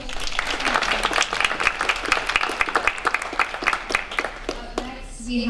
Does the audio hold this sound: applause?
yes